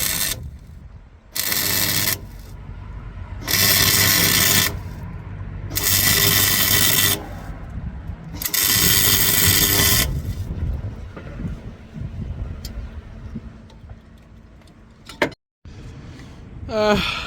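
Welding extra metal onto the broken suspension of a Proton 1.5 GL comes as four loud, crackling bursts of a few seconds each, separated by brief pauses, followed by quieter clanks and background noise.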